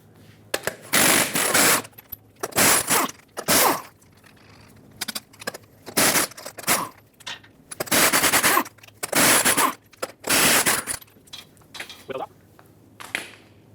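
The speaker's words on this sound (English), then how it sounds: "you can take all of your 24mm lug nuts off." An impact wrench spins 24mm lug nuts off a rear wheel of a 2003-2009 Dodge Ram 2500 in loud, rattling bursts of one to two seconds, separated by short pauses.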